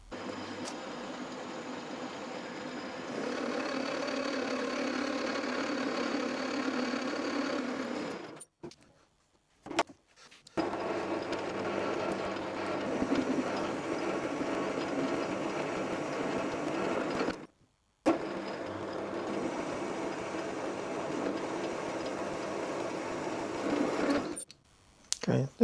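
A metal lathe takes a turning cut on a steel spindle nut blank for a Quorn Mk3 tool grinder, a steady close mechanical whir and cutting hiss running for long stretches, broken by two brief stops before restarting.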